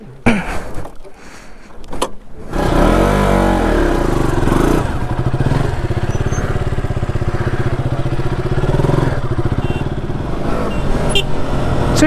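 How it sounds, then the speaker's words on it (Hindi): A KTM RC motorcycle is ridden near Mathwar, Akhnoor in Jammu. A few clattering knocks come first, then the engine settles into a loud, continuous, close hum that rises slightly toward the end. "सो गाइस अभी बाइक स्विच की है, KTM RC चलाऊंगा।"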